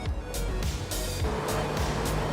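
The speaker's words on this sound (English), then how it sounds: "Goes pretty fast for an old car." A 1965 Meteor Montcalm drives along with a steady low engine rumble and road roar, broken by repeated whooshing bursts of passing air and traffic.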